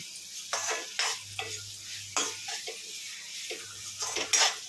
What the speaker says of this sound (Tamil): அந்த ஃப்ரானுக்குள்ளே மசாலா ஏறுறது கொஞ்சம் வதக்கி வச்சுக்கலாம்